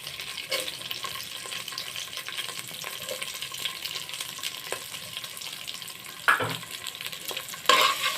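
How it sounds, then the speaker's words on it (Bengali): Spices frying with ginger-garlic paste and green chillies for a chickpea bhuna, a steady crackling sizzle with occasional louder scraping stirs toward the end. "মশলাগুলো একটু আমি ভালোভাবে ভেজে নেব"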